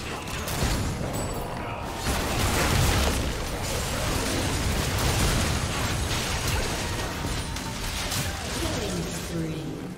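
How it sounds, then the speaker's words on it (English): A turret being destroyed in League of Legends, heard as a dense, sustained crash of explosive bursts and game effects lasting throughout, loud and continuous with an announcer's voice over the mix. "Blue team's turret has been destroyed."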